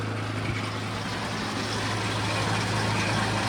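A gold trommel wash plant's engine runs its water pump at maximum speed, a loud, steady, low droning hum with a constant mechanical rumble and no breaks.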